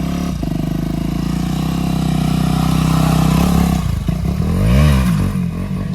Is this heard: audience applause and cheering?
no